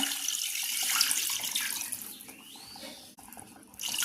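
A steady stream of water, about one and a half cups, pours and splashes into a pressure cooker for chicken soup, rushing close and loud, then thinning out toward the end.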